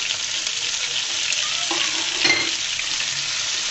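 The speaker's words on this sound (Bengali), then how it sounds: "টমেটোগুলোকে আমি ভেজে নিচ্ছি" Tomatoes frying in oil in a pan for a tomato egg stir-fry, giving a steady, loud sizzle with a few stirring scrapes near the middle, close up and without any voices.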